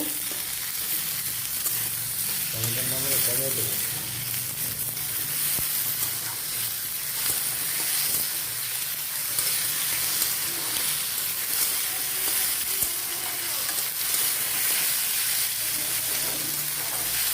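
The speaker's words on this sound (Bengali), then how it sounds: "টমেটো পেঁয়াজ আর কাঁচা লঙ্কাটা ভাজা ভাজা হয়ে গেলে" Tomato, onion and green chilli frying in a pan for a puti fish curry, a constant hissing sizzle heard close, with a faint voice briefly audible beneath it.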